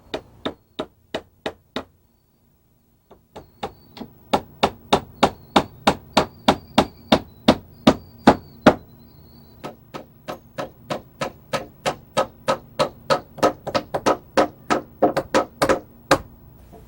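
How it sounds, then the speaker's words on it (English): Steady hammer blows toe-nailing timber deck joists into a ledger board against a house, sharp rhythmic strikes at close range, a short burst then a long run of evenly spaced hits after a brief pause. "The joists that butt up against the angled side of the house will get toe-nailed into the ledger."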